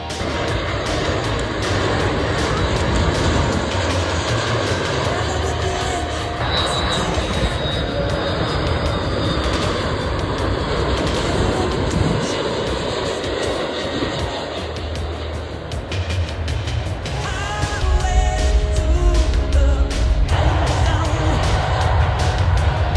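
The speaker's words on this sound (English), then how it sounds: "this is going to be a big plane coming." Large international passenger jet at Miami International Airport, a steady broad roar of engines building and growing louder toward the end, with traffic noise and voices mixed in.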